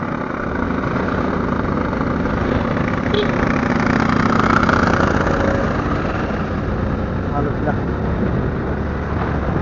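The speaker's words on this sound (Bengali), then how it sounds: "যার কারণে সাবধানে বাইক রাইড করতেছি" Motorcycle engine droning steadily and close while riding on a rainy day, a continuous loud hum with wind noise and no clear talk.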